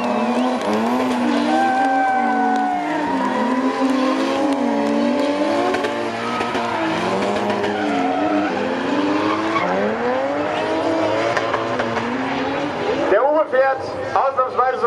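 A drift car powered by a supercharged BMW M3 engine at the 24h Nürburgring Falken drift show: a loud engine revs and wails continuously with squealing tires, while commentators talk over it and the crowd noise shifts near the end.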